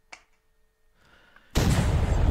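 A loud explosion in the horror video game The Walking Fish, erupting suddenly after near silence and a faint click, then a sustained roaring, rumbling blast that fills the rest of the moment.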